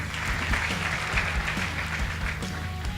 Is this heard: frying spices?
no